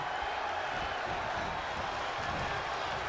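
An arena crowd in the WWE 2K20 wrestling game, a steady wash of cheering and clapping that holds at moderate volume without a break for the whole moment.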